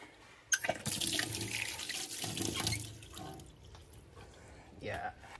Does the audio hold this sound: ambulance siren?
no